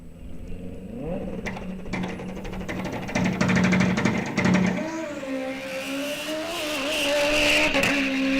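A race car launching down a 1/8-mile drag strip with its front wheel lifted, the engine sharply revving with crackling bursts, then rising and falling in pitch as it carries away, loud and fairly near.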